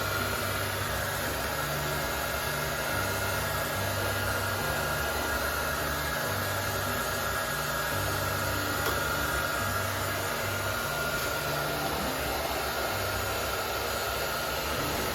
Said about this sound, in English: You have to be careful here not to overdo it with the heat gun